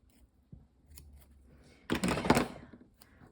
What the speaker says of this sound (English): there's my scissors